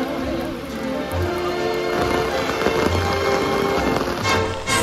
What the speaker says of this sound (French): Certes, il pleut